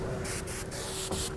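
An airbrush hisses paint onto a black T-shirt in short bursts broken by brief pauses, the airy spray close and fairly quiet, with no voices.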